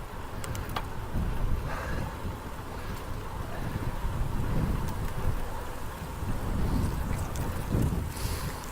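Wind buffeting a microphone while riding a bicycle with a strong tailwind, a continuous low rumbling roar that swells and fades, loud and close with no other clear sounds.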